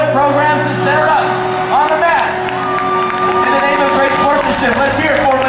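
Arena crowd cheering at a cheerleading championship, loud sustained shouts and screams with applause, including high excited voices and a long held whistle-like cry rising over the roar.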